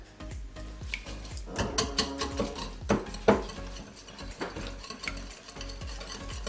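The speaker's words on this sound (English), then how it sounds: "we are going to whisk this together" Pumpkin puree with vanilla being whisked in a bowl for a mug cake batter, the whisk scraping and knocking against the sides in quick, irregular strokes, close up with no talking.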